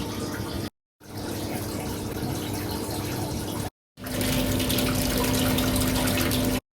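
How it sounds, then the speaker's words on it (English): Water runs steadily from the tap of a Maquet HCU 40 tank as it drains after the final rinse cycle, a continuous loud gush broken by two short pauses, with a hum appearing in the last stretch. "we need to drain the remaining volume from the red tap at the bottom"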